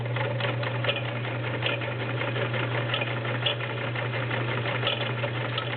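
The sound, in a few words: vintage Kenmore 1660 sewing machine stitching through denim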